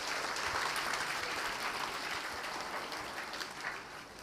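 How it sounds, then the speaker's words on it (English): An audience applauding a children's performance at the concluding function of a school programme, a sustained wash of clapping that slowly thins toward the end, moderately distant. "Let's appreciate them with a huge round of applause."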